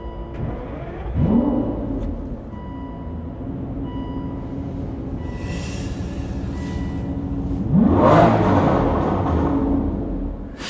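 A V12 Aston Martin V12 Vantage with a six-speed manual gearbox and an intermittent misfire, its engine rumbling along and swelling twice into louder revving surges with a rough, hesitant tone.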